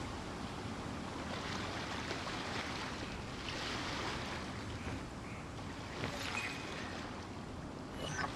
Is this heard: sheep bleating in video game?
no